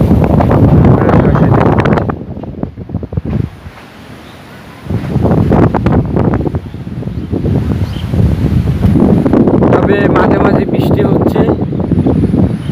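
Strong wind from Cyclone Amphan at Charmonai roars and gusts loudly against the microphone, dropping briefly before surging again, with rustling noise mixed in.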